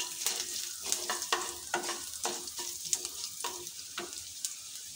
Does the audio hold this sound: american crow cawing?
no